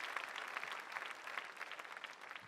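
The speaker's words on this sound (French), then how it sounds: "Applaudissons ensemble pour Jésus-Christ" Steady applause from a church congregation praising Jesus Christ, a dense wash of many hands clapping at moderate distance, even and sustained throughout without voices.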